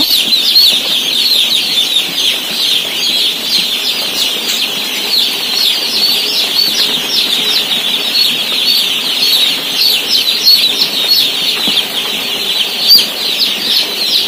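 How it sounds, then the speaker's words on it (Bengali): Many small chicks cheep constantly in a dense, high-pitched chorus, close and loud, with no voices. "এই যে দেখো সব ছোট ছোট মুরগি বাচ্চা এসছে"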